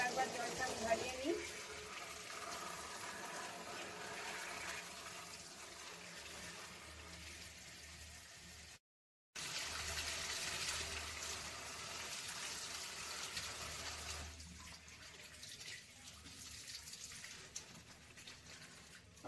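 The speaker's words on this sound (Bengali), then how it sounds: "আবার একবার জলটা আমি ঝারিয়ে নিই।" Water pours and gushes as washing water is drained off chopped ash gourd, a steady splashing flow with a brief gap midway, and a voice talking over it.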